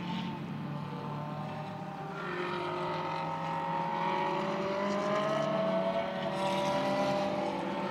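GT race cars of the Blancpain GT Sports Club lap the Spa circuit, engine whine rising and shifting in pitch as cars pass at a distance, mixed with wind-like noise at a fairly low level.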